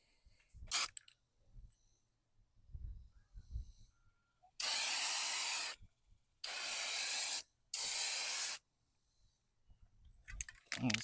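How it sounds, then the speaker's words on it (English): Rust-Oleum bed liner from an aerosol spray can coating the underside of a truck bed: three loud sustained hissing bursts, each about a second long with short gaps, after quiet rattling and handling sounds. "let me go ahead and get this thing shook up and get it sprayed"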